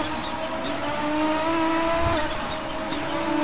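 A damaged Audi 90 IMSA GTO race car engine in the video game RaceRoom drones roughly and unevenly, with wavering pitch and a gritty, strained tone, loud and continuous throughout.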